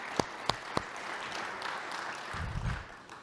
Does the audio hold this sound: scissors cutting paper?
no